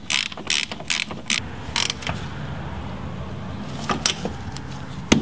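Allen head wrench tightening down an ACOS coil spacer on a vehicle suspension, giving a series of short, close metallic clicks and creaks in uneven bursts, with a quieter stretch in the middle.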